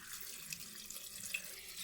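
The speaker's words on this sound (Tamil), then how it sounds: "நான் ஒரு செம்பு தண்ணி ஊற்றுறேன்" Water poured from a pot into chicken soup cooking on a stove, a steady soft splashing trickle throughout with a few small brighter splashes, fairly faint and close.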